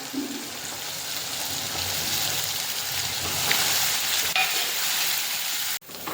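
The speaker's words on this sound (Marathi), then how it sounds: "आणि त्याला छान असं मिक्स करत करायचं त्याला तेल सुटेपर्यंत आता मिक्स करत राहायचं" Ground masala paste for matar paneer frying in a pan on low flame, a dense steady sizzle with soft stirring scrapes, close and even, ending with a sharp knock.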